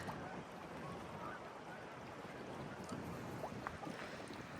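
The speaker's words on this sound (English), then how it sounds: "It's very windy. So excuse me if you see it's a bit noisy here" Steady wind roars and buffets across the whole clip, a constant rushing noise with faint gusty flutters and no clear talking.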